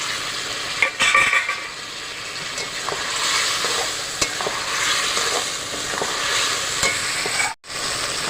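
Eggs fry in a spiced masala with a constant sizzling hiss while a spatula stirs and scrapes the pan in irregular strokes, plus a brief drop-out near the end.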